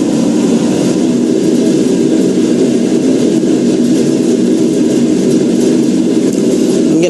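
A spin coater whirs at 4,000 RPM while spinning PMMA polymethyl methacrylate resist, giving a loud, steady, continuous drone with an even hiss and no breaks.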